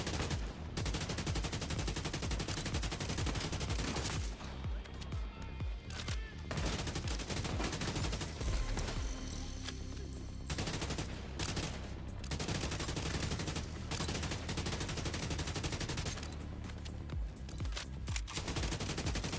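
Sustained, dense automatic gunfire from The Division 2 rattles loudly and nearly nonstop, with bursts overlapping and brief dips before the shooting resumes.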